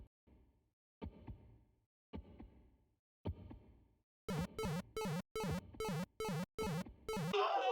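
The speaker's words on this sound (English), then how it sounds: "we have a bit of a heartbeat cutscene here" Heartbeat in a video game cutscene: three slow, soft thumps spaced about a second apart, then a run of louder, sharper rhythmic pulses that quicken and swell into a noisy burst at the end, with no talking.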